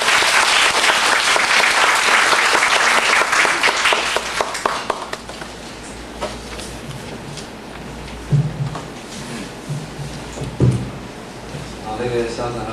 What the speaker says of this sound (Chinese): 我们现在是不是以最热烈的掌声来欢迎蔡教授